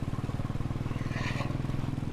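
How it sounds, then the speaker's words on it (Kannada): Royal Enfield Bullet motorcycle riding on a Bangalore ring road, its steady low engine thump loud and close throughout, with faint wind and road noise above. "ಹೊಸದಾಗಿ ನೋಡ್ತಿರೋರು ನೋಡಿ ನಮ್ಮ ಬುಲೆಟ್ ಹೆಂಗಿರುತ್ತೆ ಅಂತ"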